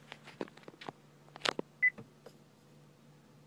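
Amid scattered clicks and handling noises, a single short electronic beep from a 2013 Honda Pilot's voice command system chimes, then things settle into a quiet hum.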